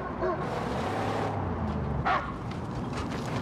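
A dog barks in the Mad Max video game, a short yelp rising briefly over a dense, steady rumble of engines and game noise, with someone talking faintly in the background.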